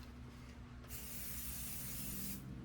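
APS fabric adhesive sprayed from an aerosol can over a garbage can, a steady close hiss lasting about a second and a half, starting abruptly and cutting off cleanly over low background hum.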